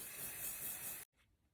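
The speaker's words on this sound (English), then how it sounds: "some setting spray" A short pressurized hiss of makeup setting spray lasts about a second, then cuts off abruptly, followed by a faint trailing rustle.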